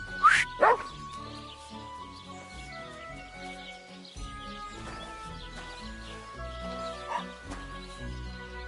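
A dog gives a couple of sharp barks near the start, followed by faint whimpers and yips under ongoing background sound.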